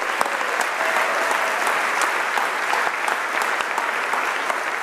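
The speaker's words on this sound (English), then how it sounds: "please clap for the entire team of Goodsmiths" Sustained clapping from an audience at a tech awards event, fairly close and even, with individual sharp claps standing out from the crowd's steady applause.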